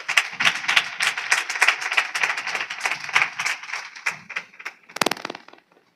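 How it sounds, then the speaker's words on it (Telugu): A church congregation claps loudly together during Sunday worship at an Apostolic church in Nuzvid: quick rhythmic claps in a steady beat that thin out to a few last sharp claps near the end, with no voices over them. "గట్టిగా చప్పట్లు కొట్టు."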